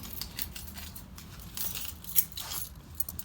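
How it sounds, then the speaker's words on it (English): A bunch of keys for a Buick Grand National jangles and clinks in bursts nearby, faint metallic rattling with a few sharper taps. "Let's find the keys. Got a lot of keys here."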